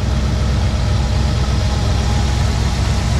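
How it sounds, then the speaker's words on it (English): A 1969 Ford Bronco with blueprint aluminum heads and aluminum radiator idles, a loud, steady low rumble with an even pulsing beat, close up and uninterrupted by talk. "the engine was just serviced and runs really, really well."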